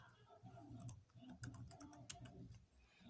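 Keystrokes on a computer keyboard entering a Cisco router configuration command, a steady run of light clicks at moderate pace with a low hum underneath.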